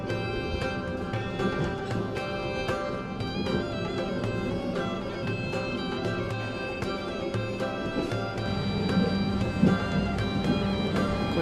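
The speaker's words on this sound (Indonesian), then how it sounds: "Kondisi di luar masih hujan ya." Rain falls outside a moving train, heard as a dense, continuous patter with scattered sharp clicks and drops over a steady rumbling hiss of the carriage, with no talk.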